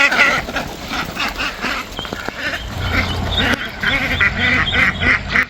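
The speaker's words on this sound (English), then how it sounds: "Oh, mamas, you gotta wait for your ducklings." Mother ducks quacking with their ducklings near a farm pond, a busy overlapping chorus of nasal quacks and high peeping, close and continuous throughout.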